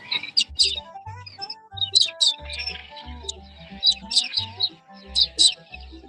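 Real live birds chirping and tweeting in repeated bright bursts, fairly close and clear, with a low intermittent hum underneath.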